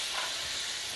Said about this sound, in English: This is called deglazing the pan, and I like all those bits in my sauce.